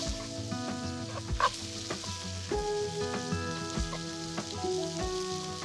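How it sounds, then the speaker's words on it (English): A spice mix with fenugreek, cumin, garlic and onion fries in a pan for butter chicken meatballs, a soft, continuous sizzle beneath steady background music, with no talking. "I've just created a little space in the middle of the pan to fry off all of the spices"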